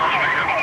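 A police siren wails steadily and loudly during a car chase, its pitch sweeping up and down without pause.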